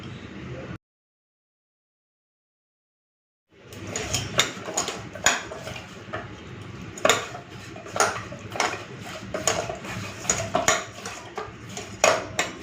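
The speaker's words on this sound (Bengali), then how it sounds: "মাছটাই নুন আর হলুদটাতে ভালো করে মেখে নিলাম" Katla fish pieces are mixed by hand with salt and turmeric in a bowl: after a brief silent gap, soft rhythmic squelches and light clinks of the dish repeat steadily up close, without talking.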